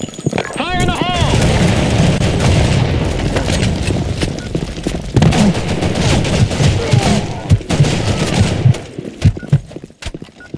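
Blackshot match in Broken City: a grenade blast and dense rapid gunfire roar loudly and continuously, with overlapping shots and booms while a voice speaks over the battle.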